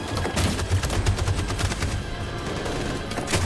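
Covering gunfire in Detroit: Become Human rattles in dense, rapid automatic bursts. It is loud and close, and it keeps going almost without a break from start to finish.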